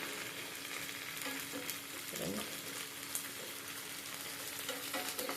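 Ginger paste fries in a pan, a soft, steady sizzle and crackle throughout, with a stirring scrape near the middle. It is quiet and close, with no talk.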